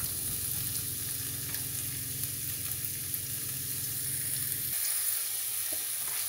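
Garden vegetables fry and sizzle steadily in a pan, a continuous close crackle that drops off sharply near the end as the heat or stirring changes, with no talking.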